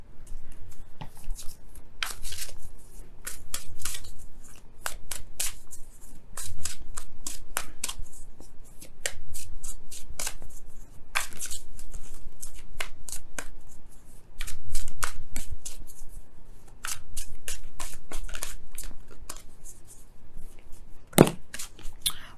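Oracle cards are shuffled over and over by hand during a tarot reading, giving rapid papery riffles and flicks in bursts with short pauses between them, close and fairly quiet.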